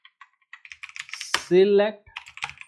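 Someone types an SQL query on a computer keyboard, producing a run of quick, close, crisp key clicks, briefly interrupted by a voiced sound in the middle.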